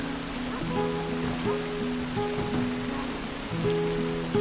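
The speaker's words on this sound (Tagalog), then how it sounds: "Umuulan." Steady rain patters on a surface close by, a soft even wash that stays alone with no voices over its few seconds.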